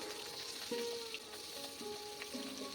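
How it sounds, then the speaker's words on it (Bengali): Pabda fish sizzle in hot oil in a pan, a close, steady crackling fry with small pops and no talking. "এবার একে একে মাছগুলো দিয়ে দিচ্ছি বন্ধুরা"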